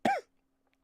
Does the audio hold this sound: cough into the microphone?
yes